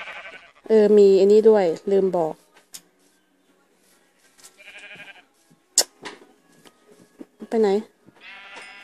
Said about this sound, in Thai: เหมือนจะได้ยินเสียงแปลกๆแกะปะวะ